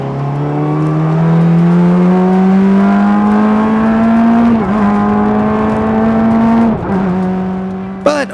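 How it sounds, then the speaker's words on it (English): A Formula-style race car engine screams at high revs, its pitch climbing steadily, then drops in quick stepped downshifts, loud and close, with a final sharp blip near the end. "my downshifts are sounding a lot better lap by lap."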